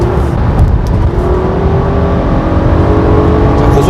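Nissan Pathfinder full-size SUV cruising at high speed in 4WD auto mode, with a steady loud engine drone and road roar throughout, no talking.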